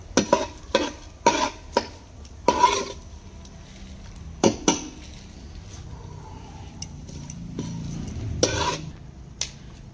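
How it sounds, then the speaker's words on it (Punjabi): Ingredients frying in a pan for aata panjiri, with a low sizzle under repeated sharp scraping stirs and clinks of a utensil against the pan, close and moderately loud, with no talking. "ਹੁਣ ਇਹ ਵੀ ਫਰਾਈ ਹੋ ਗਏ ਨੇ"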